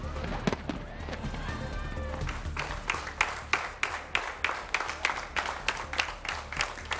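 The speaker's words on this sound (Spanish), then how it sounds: "Son los aplausos con los que este hotel ha recibido a su primer visitante desde que se cerró por la pandemia" A hotel staff group claps to welcome its first guest after a pandemic closure, a steady run of sharp overlapping claps growing into rhythmic, evenly spaced beats, fairly close and loud over a low background rumble.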